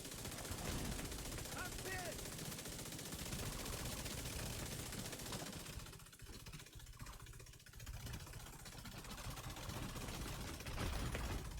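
Sustained game gunfire from enemies pours at the player in a hard room of The Division 2, dense and continuous, easing briefly midway before picking back up loud.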